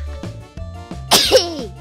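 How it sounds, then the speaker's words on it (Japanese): A single sharp sneeze bursts out after a few quiet breaths and small sounds, loud and close, with a squeaky vocal tail. "くしゃみだよ。"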